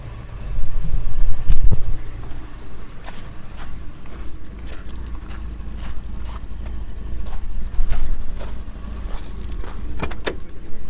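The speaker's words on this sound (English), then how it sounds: "take you out for a ride with us now and see how it runs" A rare 1978 Jaguar XJ 3.4 barn find drives along with a steady, loud engine and road rumble, with wind and cabin rattles over it and brief bumps and knocks throughout.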